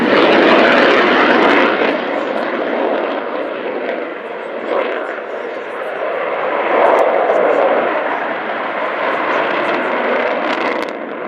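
An Avro Vulcan bomber jet, XH558, roars loudly and continuously overhead at an air show, a broad rushing engine sound that swells and eases slightly without pause.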